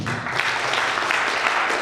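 Loud, steady applause from an audience at an anniversary celebration, a dense continuous patter of clapping filling the room with no gaps for the whole stretch.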